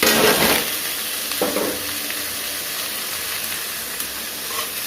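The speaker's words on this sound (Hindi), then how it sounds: "अच्छी तरह से मिक्स करके थोड़ा सा इसको रोस्ट कर लेना है, सौते कर लेना है हाई फ्लेम में।" Carrots, capsicum and green peas sautéing on a high flame, a continuous bright sizzle with a louder burst at the start and a brief stirring scrape, steady and close with no talking.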